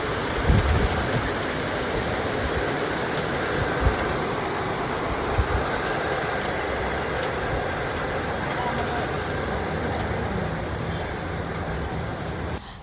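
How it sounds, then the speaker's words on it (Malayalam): Steady heavy rain falls outside a home, a constant broad hiss lasting the whole clip with a few louder patters early on and no clear thunder. "സൂപ്പർ മഴ ഇവിടെ വീണ്ടും വന്നിട്ടുണ്ട്"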